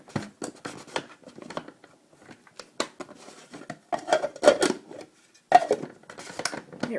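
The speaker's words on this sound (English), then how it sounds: "I wanted to mix it up just a little bit more" Shea butter being stirred in a container, giving soft irregular scraping and tapping of the utensil against the sides, close and quiet with small thicker squelches toward the end.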